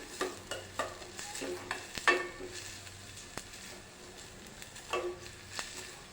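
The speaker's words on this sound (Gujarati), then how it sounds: "આ લીલું લસણ લીધેલું છે તે પણ એડ કરી દઈશું બરાબર મિક્સ કરી લઈશું" Green garlic being mixed into a hot soup in a pan, with repeated scraping and knocking of a spoon against the pan over a soft continuous sizzle.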